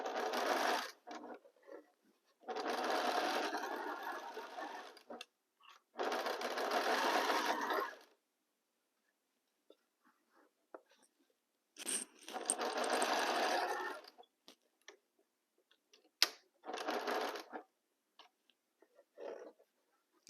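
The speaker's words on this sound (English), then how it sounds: "So let's start sewing." Sewing machine stitching fabric in several bursts of steady, loud whirring, each a few seconds long, separated by quiet pauses and light handling clicks, close up with no speech.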